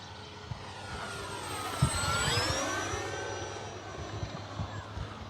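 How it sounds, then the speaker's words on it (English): A radio-controlled F4U-4 Corsair scale model plane, about 1.1 m span with modified flaps, flies past with a rising and falling electric whine that swells as it passes overhead, moderately distant, with faint background noise. "Just love the way this plane flies"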